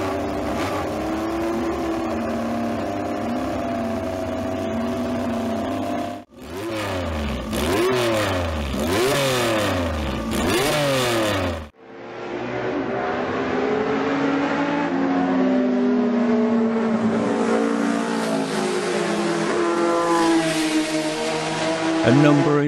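A Rob North racing motorcycle engine revs hard, sweeping repeatedly up and down in loud rising and falling pitch, with brief cuts between passages and a sustained high howl toward the end.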